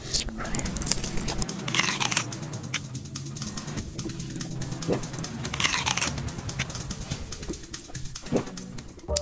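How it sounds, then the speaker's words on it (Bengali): Eating sound effects with crisp biting and crunching run almost continuously in quick, close, repeated bites. "আপনি এই ভিডিওতে কিছু খাওয়া দাওয়া সাউন্ড ইফেক্ট অ্যাড করতে পারেন"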